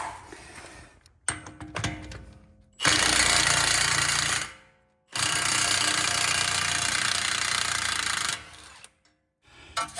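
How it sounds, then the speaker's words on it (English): An impact wrench drives a 35mm socket to break loose a truck's spindle nut during a steering knuckle swap, firing two long, loud, steady hammering bursts after a few short rattling blips, close up with no talk. "Now for maybe one of the hardest nuts to remove, the spindle nut. And for that, I'll be using a 35mm socket"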